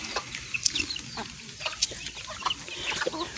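Chickens in a Visayan yard cluck and squawk in scattered short bursts, several birds calling near and far over a steady outdoor background.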